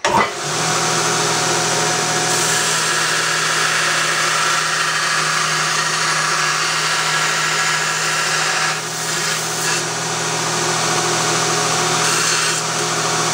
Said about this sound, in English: I just need to go through and bevel all these now for the prepping for welding